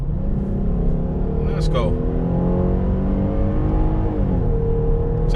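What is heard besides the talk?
2021 Dodge Durango SXT Plus accelerating at full throttle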